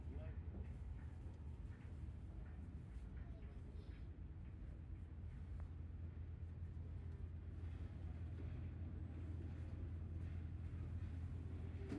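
A passenger launch, a river ferry at Munshiganj, rumbles with a steady low-pitched engine drone that runs unbroken and fairly loud throughout, with a faint wash of water and wind noise layered above it.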